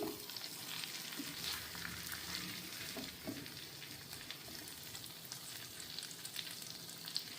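Brinjal pieces fry in oil in a steel pan on a low flame, giving a steady close sizzle with soft crackles and the occasional scrape of stirring throughout.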